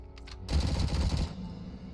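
Rapid automatic gunfire in the RoboCop: Rogue City game, a dense rattling burst lasting under a second before fading into a lingering low rumble, loud and close.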